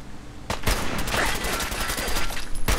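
Rifle fire in Fallout 4, a loud, close fusillade of rapid shots rattling off in quick succession, with no speech over it.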